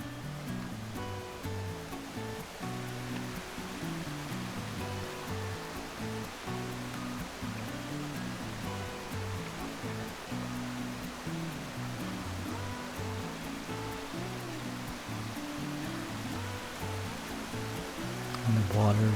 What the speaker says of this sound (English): the water rushing over the rocks